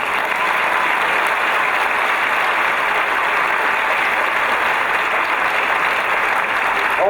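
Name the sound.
applause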